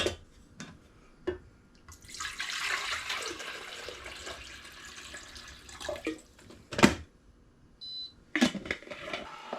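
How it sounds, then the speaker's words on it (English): Water running from a tap into a kettle to be boiled for a Jell-O salad, a steady splashing stream that swells and fades over several seconds with a few sharp knocks and clunks around it. "Now, you're going to want to boil your water."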